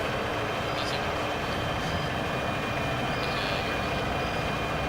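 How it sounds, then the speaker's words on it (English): A vehicle engine in a military game runs as a loud, steady, unbroken drone throughout, with faint indistinct voices buried beneath the noise. "I can't hear you over the engine."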